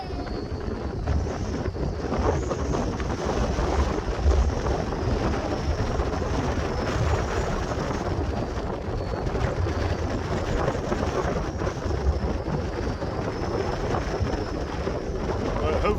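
Strong wind buffets the camera microphone on a muddy shoreline of the Bristol Channel, a loud, constant roar with low rumbling gusts that fills the whole stretch without pause.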